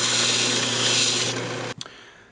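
Reclaimed wood bud vase spinning on a lathe is sanded through grits, a steady close, loud abrasive rasp with a constant motor hum that stops abruptly near the end.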